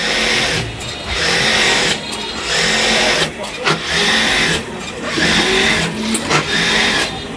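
An electric sewing machine runs in close, steady stretches while stitching a mini-pleated palazzo salwar, with brief slowdowns between runs. A person talks over the motor's whirr.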